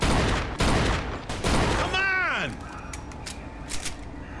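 Gunfire in the crime game Mafia II: several loud, sharp gunshots in quick succession, followed by a falling whistling tone and a few fainter distant shots, with someone talking over the action.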